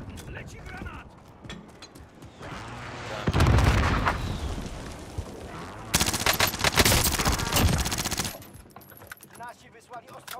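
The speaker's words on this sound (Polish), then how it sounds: "Nasi wysłali ostrzał kasetowy." A cluster artillery barrage in Call of Duty Warzone, with dense bursts of rapid explosions and crackling impacts in two loud waves between quieter stretches of rumbling battlefield noise.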